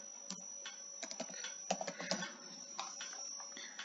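Quiet, close clicking of a computer keyboard as response values are typed into structural design software, a loose run of irregular keystrokes with a few sharper taps and no voices.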